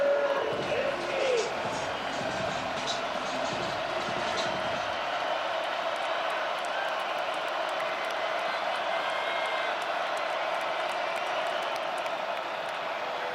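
A football crowd at Nippert Stadium rises to its feet, roaring and cheering in a broad, sustained wash of noise that fills the stadium, while a commentator's voice is heard at the start.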